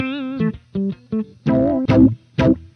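An electric guitar goes through an Ibanez/Maxon AF-9 filter pedal set to sweep downward, giving short picked notes and chords a vowel-like quack as the tone clamps down, with about six distinct hits, close and alone.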